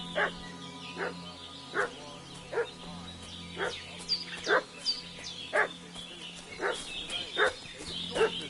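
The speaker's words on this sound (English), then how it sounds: "What's that dog making such a fuss about?" A dog in a video game barks repeatedly in sharp, evenly spaced yaps, moderately close over a steady low ambient hum.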